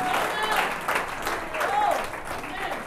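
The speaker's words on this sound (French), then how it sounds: "Pendant qu'ils retournent à leur place, nous acclamons correctement" A church congregation applauds and cheers as people return to their seats, loud sustained clapping from a crowd with voices calling out over it.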